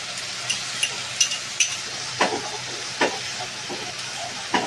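Garlic, onion and ginger pastes fry in a pan for a chicken dish, giving a steady hiss and sizzle broken by soft scraping clicks as they are stirred every second or so.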